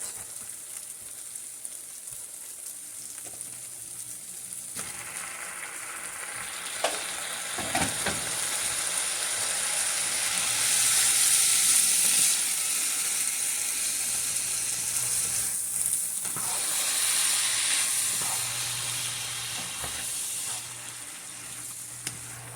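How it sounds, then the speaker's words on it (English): Rinsed, drained sauerkraut dropped into a hot skillet with caramelized sausage, giving a loud, steady sizzle that swells and crackles close up, with occasional stirring. "I'm going to go ahead and add in my rinsed and drained sauerkraut."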